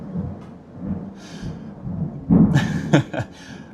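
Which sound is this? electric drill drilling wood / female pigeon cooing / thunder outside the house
thunder outside the house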